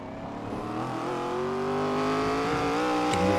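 Race cars running near the track wall at Circuit of the Americas, a steady, loud engine roar that builds gently over a few seconds, with harmonic engine tones and no talking.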